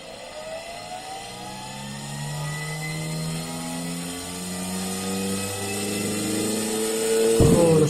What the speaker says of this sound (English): this is a 24 volts 50 watts DC motor